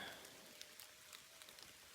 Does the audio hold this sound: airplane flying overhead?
no